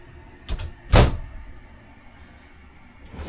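A wardrobe door in a 2026 Dynamax Grand Sport 45CB Super C motorhome swings open with a short click and thump, followed by a louder, sharper latch or knock near the one-second mark, with quiet cabin room tone afterward.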